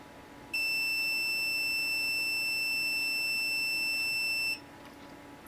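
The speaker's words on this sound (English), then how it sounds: "and if I'm right, the alarm will sound" A hobby clock kit's alarm sounds one shrill, high-pitched electronic tone that holds steady for about four seconds and then stops abruptly, over faint background hiss.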